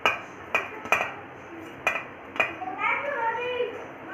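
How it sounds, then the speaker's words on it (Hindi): A spoon stirs a garam masala filling for veg pockets in a metal bowl, sharp clinks and scrapes at irregular intervals, followed by a voice talking nearby. "तो अब हम इसको मिक्स कर लेते हैं अच्छे से"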